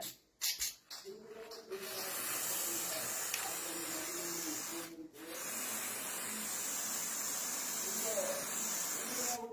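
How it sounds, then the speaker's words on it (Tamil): WD-40 spray hissing steadily onto a rusty refrigerator door, a few short bursts and then a long continuous spray up close, with a brief pause midway. "டபிள்யூடி ஃபார்ட்டி ஸ்ப்ரே அடிச்சு ஈஸியா தேய்ச்சி எடுத்துடலாம்"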